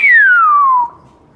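A person gives a single clear whistle that slides steadily downward in pitch for just under a second, then stops, in a workshop during a differential overhaul.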